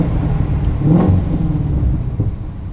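A sports car with a factory stock exhaust revs hard at about 30 mph, a loud, close engine roar that swells and settles, with no talk.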